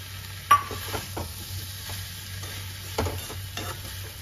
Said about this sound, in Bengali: সব কিছু ভালো করে মিশিয়ে নিয়েছি, এরপর আরো 5 মিনিট একটু ভালো করে কষে নেবো